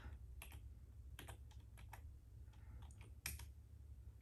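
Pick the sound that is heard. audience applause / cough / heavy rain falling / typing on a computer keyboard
typing on a computer keyboard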